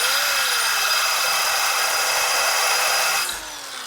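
A power drill with a dull bit that has stopped cutting whines steadily at high pitch with a grinding rub, its motor pitch sagging slightly, then it winds down near the end.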